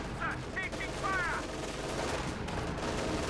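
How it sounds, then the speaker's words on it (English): Machine guns firing in the Company of Heroes 2 real-time strategy game, a steady clatter of bursts layered with battle noise while a commentator speaks. "machine guns firing."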